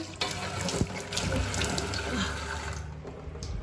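Water splashing onto a cooking fire where chili was being pounded, a sudden close rush and sizzle-like wash that runs steadily for a few seconds before easing off.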